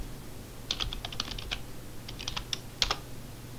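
Fingers tap on a computer keyboard in quick irregular bursts of clicks, close and fairly clear over a low steady background hum, with no talking.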